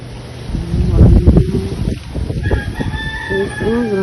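Chickens cluck nearby and a rooster crows toward the end, with wind buffeting the microphone throughout.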